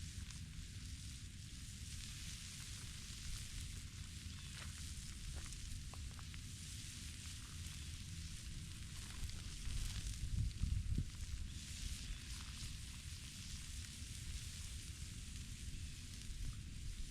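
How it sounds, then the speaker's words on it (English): Continuous crackling sizzle of rabbit thighs cooking on a hot grill, steady and close, with a few louder pops and hisses midway. "Those guys are sizzling real nice on"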